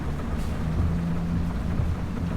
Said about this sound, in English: as you might have noticed, there is a bit of rain